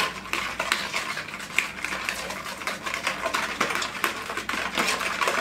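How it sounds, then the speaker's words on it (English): A spoon stirs warm milk and sugar by hand in a bowl, making a steady run of quick, close clinks and scrapes against the bowl with no pause and no speech. "And I'm going to stir that around."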